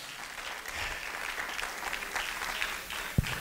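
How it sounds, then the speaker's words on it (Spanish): A church congregation applauds during a Spanish-language service, a steady dense patter of many hands, moderately quiet, with a single dull thump near the end. "Denle un aplauso a su Dios en esta noche"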